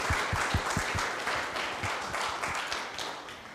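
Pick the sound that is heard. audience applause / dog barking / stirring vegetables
audience applause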